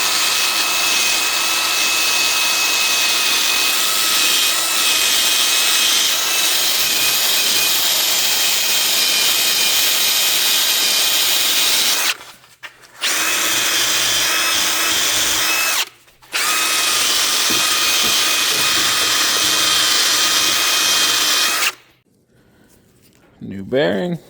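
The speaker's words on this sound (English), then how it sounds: "Now we're gonna clean up our mating surfaces so our no one goes in nice and smooth." Power tool cleaning wheel bearing mating surfaces on a 2015 GMC Acadia during a rear wheel bearing replacement, a loud continuous high-pitched whir that cuts out briefly twice before stopping near the end.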